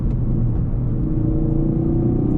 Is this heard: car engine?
yes